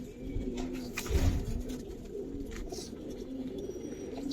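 Pigeons coo at a colour pigeon farm in Bangladesh, soft repeated rolling coos close by over a low background hum, with no voices.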